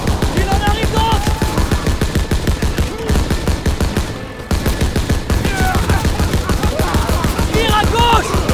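Relentless World War II battle gunfire in Call of Duty WW2, with rapid machine-gun bursts and rifle shots hammering almost without pause, loud and close, while soldiers shout over the din.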